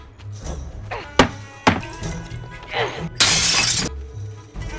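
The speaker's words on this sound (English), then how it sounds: "Pepper and London sneak over to the Japanese man's house and start smashing his windows" Windows of a house are smashed at night: a few sharp, hard impacts ring out, followed by a loud, sustained burst of shattering glass, close and forceful.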